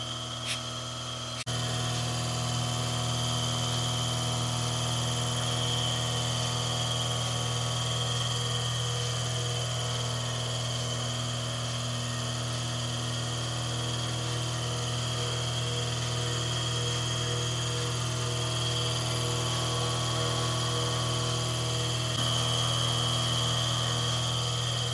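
An Ezee deluxe portable milking machine pump runs steadily, a loud continuous electric motor hum with a strong low drone and constant tone, unbroken for the whole stretch after a brief start.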